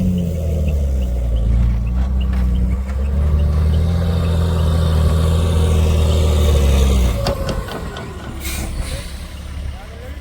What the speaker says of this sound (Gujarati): ઓલી બાજુ ટ્રેક્ટર આડેધડ બગડાટી બોલાવે.